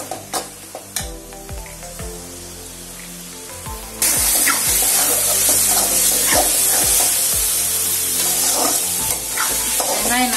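Onions and tomatoes sauté in oil for a sardine fish kuzhambu, starting with sharp metallic spoon clanks on the pan and then swelling into a loud, dense sizzle with steady stirring scrapes. No talking.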